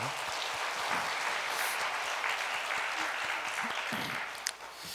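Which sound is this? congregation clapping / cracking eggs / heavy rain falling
congregation clapping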